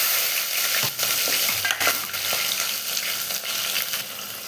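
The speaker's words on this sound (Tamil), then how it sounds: "நல்லா வெங்காயம் போட்டுட்டு நல்லா வதக்கி கொடுத்துக்கலாம்." Sliced onions sizzle in hot oil with cinnamon and fennel seeds while being stirred in a pan for tomato rice, a continuous close frying hiss broken by scraping stirring strokes.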